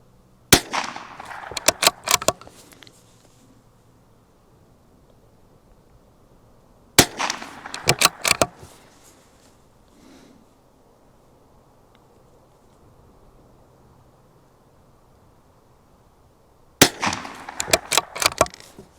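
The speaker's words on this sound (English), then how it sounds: "I'm just going to have to keep shooting" Sharp .22 rimfire shots from a CZ 457 Lux bolt-action rifle fired at targets outdoors in wind, coming in three quick bursts of several close cracks each, separated by quiet stretches with wind noise.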